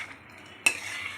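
A single quick scrape of a spoon through mango pulao in a pan, finished with a little ghee, stands out against a quiet background, followed by a faint soft hiss.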